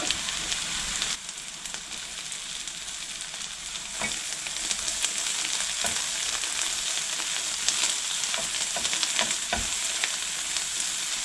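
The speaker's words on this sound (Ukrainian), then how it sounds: "так смажу буквально 2 хвилини" Vegetables, including onion, carrot and garlic, fry in a pan with a steady, close sizzle, broken by occasional sharp pops and stirring clatters.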